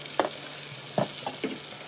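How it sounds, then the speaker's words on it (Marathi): Coriander and other dal bati ingredients sautéing in a pan, a soft continuous sizzle with three or four brief scraping stirs of a spoon, fairly quiet and close. "परतून घ्यायचं पहिले."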